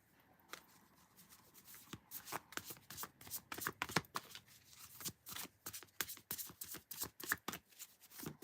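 Playing cards are shuffled close up for a cartomancy reading, a quick run of crisp riffles and slaps that grows denser and more rhythmic, with no talking.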